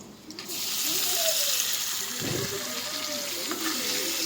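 Chopped tomatoes tipped into a hot pan while cooking tomato egg rice, giving a steady close hiss and sizzle with a brief thump of the pieces landing midway, faint voice underneath.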